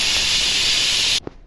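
Loud, steady steam hiss from a pressure cooker cooking bagara rice, close by, cutting off abruptly with a brief thump and faint tail afterward.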